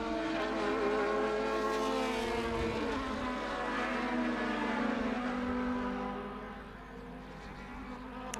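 Formula Open single-seater race cars roaring past in a feature race at the SKOPE Classic 2023, several engines overlapping in sustained high-pitched harmonic whines that shift in pitch as the cars pass, loud and close throughout.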